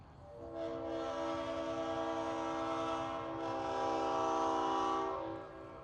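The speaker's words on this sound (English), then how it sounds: "so they're gonna sound the horn" A loud, sustained horn from a historic train in Chattanooga blares steadily for several seconds, its chord holding nearly constant before cutting off.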